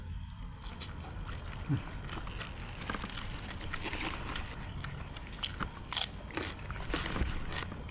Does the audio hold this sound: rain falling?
no